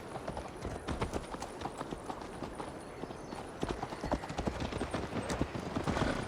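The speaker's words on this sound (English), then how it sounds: "Mount up, Eivor. It's a long ride to Tamworth." Horse hooves clip-clop in a steady galloping rhythm during a ride in the video game Assassin's Creed Valhalla, loud and continuous with a faint whinny and a little background voice.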